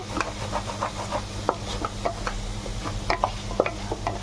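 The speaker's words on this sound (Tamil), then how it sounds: "நல்லா மசாலாவோட பச்சை வாசனை போகிறத நல்லா கிண்டி விட்டுட்டு" Potato fry masala being stirred in a pan, rhythmic scraping and tapping of a spoon over a low sizzle and hum, close and steady, with no voices.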